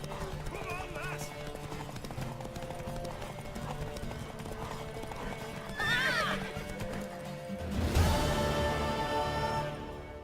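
Horse hooves clip-clopping and a mare neighing in the video game The Witcher 3, a steady hoof rhythm running throughout with two loud, close whinnies near the middle and end, while people talk over it.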